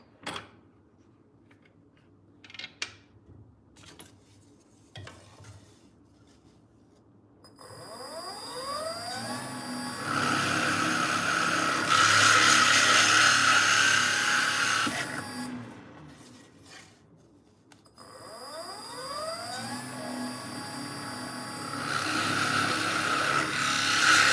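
A power drill bores into wood while making boomerangs, the bit clogged and smoking. A few clicks come first, then two long, loud, whining bursts whose pitch sweeps upward as the motor spins up, each bite separated by a short pause.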